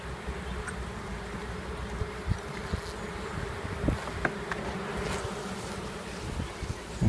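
Honeybees buzz steadily in an opened beehive, a dense, close hum made by many insects, with occasional soft knocks and rustles from handling the frames.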